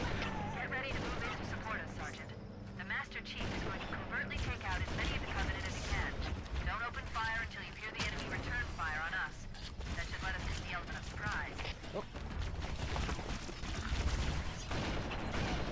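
Gunfire from a sniper rifle in the video game Halo, loud sharp shots rising out of a dense, busy wash of battle noise, music and effects, with a voice talking over it throughout.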